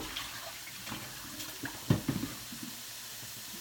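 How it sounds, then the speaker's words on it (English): Water pours into a mug holding ramen noodles, a soft steady splashing and trickle with a slightly stronger gush near the middle, close and quiet. "I just put my ramen in a mug and then I'm just going to cover it with water."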